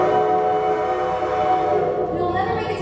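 Train sound effect played during a live school stage production of The Music Man, a loud sustained tonal horn-like whistle with steady harmonics under a low rumble, fading slightly toward the end.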